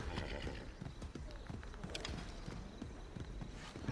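A horse in the Assassin's Creed Odyssey video game clip-clops along with a steady hoof rhythm and lets out a neigh, close and clear, with faint game ambience underneath.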